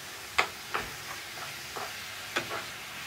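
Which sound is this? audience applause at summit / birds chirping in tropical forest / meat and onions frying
meat and onions frying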